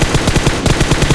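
Rapid automatic gunfire from the PUBG Mobile video game, a loud steady stream of evenly spaced shots laying down cover fire, heard close with no talking.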